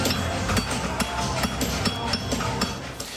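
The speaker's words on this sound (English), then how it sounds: "The world's best farriers are hammering it out in the Blacksmith World Championships." Farriers hammering at the Blacksmith World Championships at Spruce Meadows: repeated sharp metallic strikes land at a steady, quick rhythm over a constant workshop din, with no voices heard.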